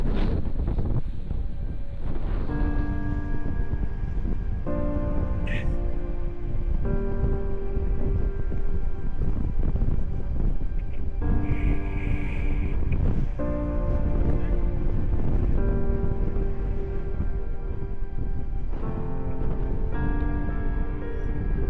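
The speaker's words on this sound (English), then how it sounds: "the wind is insane" Strong wind roars outdoors on Whiteface Mountain as steady, loud broadband buffeting against the microphone, with voices speaking intermittently over it throughout.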